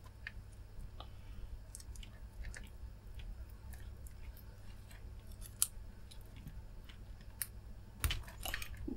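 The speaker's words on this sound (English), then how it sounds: "once you split this plastic, it will kind of peel off" Plastic insulation is split and peeled from LED Christmas light wire, giving faint scattered snips, crackles and ticks close by with a few sharper clicks near the end, over low background hum and no talking.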